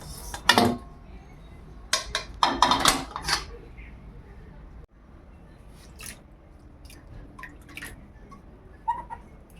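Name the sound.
washing the wok (kadai) with water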